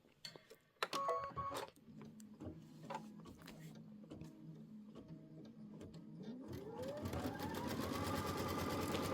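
A sewing machine runs a tack-down stitch on a patchwork star-spangled flag quilt block, with stop-start stitching bursts and then a rising motor whir building into continuous running, fairly quiet.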